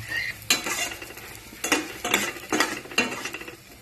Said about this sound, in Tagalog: Gigisa lang natin to.